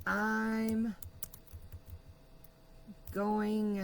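Quick, light computer keyboard key taps clatter for a couple of seconds between stretches of a voice talking.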